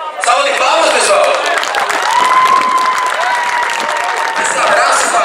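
Crowd applause fills the air at an amateur circuit event in Rio Grande do Norte, a dense steady clapping lasting several seconds with voices and cheering mixed in.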